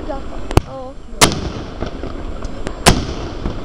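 Fireworks rockets burst overhead in sharp, loud cracks, three big bangs spaced across a few seconds with smaller pops and crackles between, while people chat in the background.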